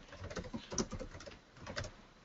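Computer keyboard typing while code is written for a Node.js IoT application, a quick irregular patter of soft keystrokes, close and fairly quiet, with no talking over it.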